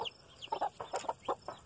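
Hens in a farm barn that also houses goats cluck in a quick run of short, close calls, fairly loud against a quiet background.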